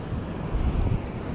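Surf rolls onto the beach at Sansundi in North Biak, a steady broad wash of waves mixed with wind rumble, close and continuous for a brief moment.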